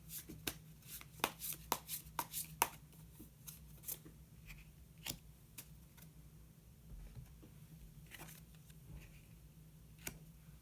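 Tarot cards shuffled and drawn by hand, a quick run of sharp papery snaps and flicks early on, then sparser clicks and soft rustles, close and fairly quiet.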